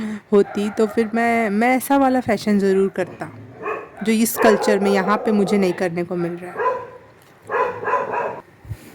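Dogs bark outside a home, a mother dog with her puppies, as faint yips and barks buried under a man's close, steady talking.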